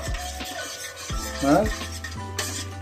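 Whole spices (bay leaf, cardamom, cloves, cinnamon) fry in hot oil and ghee with a light sizzle while a spoon scrapes and clinks against the pan.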